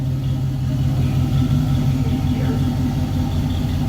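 A 1966 Pontiac Catalina wagon engine running as it is put into reverse, a loud, steady low rumble close by with no clear change in pitch.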